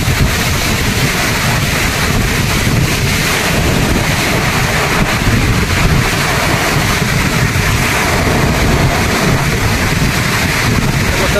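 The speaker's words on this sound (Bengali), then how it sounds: "প্রচুর হাওয়া আছে এখানে।" Strong wind at rainy Cherrapunji roars and buffets the microphone in a loud, unbroken rush for the whole stretch, dense and steady with no clear pauses.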